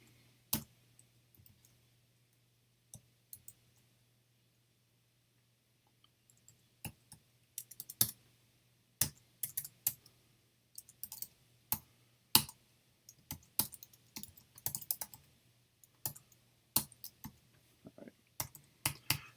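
Keys on a computer keyboard clack in scattered irregular bursts, sparse at first and then denser, with quiet gaps between runs and no talking.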